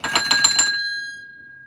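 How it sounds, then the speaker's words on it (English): A bell rung in a quick burst of bright metallic strikes, then a single clear tone lingering and fading away alone. "I love that bell."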